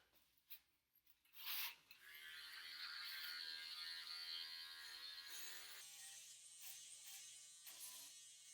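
Electric hair clippers with a snap-on attachment guard run with a steady close buzz for several seconds, used on the sides of a head during a home haircut, then the motor drops off near the end.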